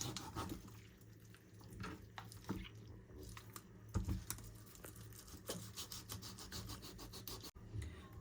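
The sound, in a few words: cutting up a whole chicken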